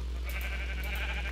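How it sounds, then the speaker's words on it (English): A sheep in the Minecraft game bleating in a short wavering call over a steady low hum, fairly quiet and with no voices. "We got more sheep."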